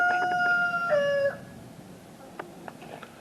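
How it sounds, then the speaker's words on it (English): Backyard hens cluck and squawk close by in a short burst of tonal calls, one drawn-out cry standing out, before dropping to sparse, faint clucks in a quiet yard. "Gemma, Penguin, You don't have to scare the chickens on purpose."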